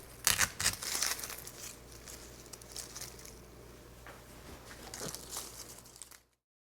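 Decorative berries for a holiday craft being cut, heard as close crisp snips and crunchy crinkling of stems and plastic, loudest at the start, then lighter rustling before stopping abruptly.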